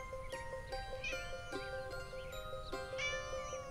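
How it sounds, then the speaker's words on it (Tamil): Kittens give several faint, thin meows over a steady background hum, with high-pitched mewing spread across a few seconds. "இங்க பாரு பூனை குட்டிங்க."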